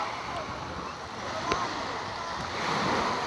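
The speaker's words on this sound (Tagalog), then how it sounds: "Ito yung karagatan ng Marinduque oh." The sea off Marinduque surges as continuous waves with a soft breaking wash, joined by wind noise and a brief knock, while people talk nearby.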